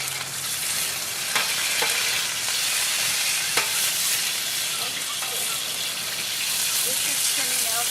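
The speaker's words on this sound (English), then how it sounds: "Now this is getting seared. We want it nice and gold, a nice golden brown." Paella ingredients sear in a pan with a loud, dense sizzle that runs the whole time, broken by a few sharp clicks of a utensil.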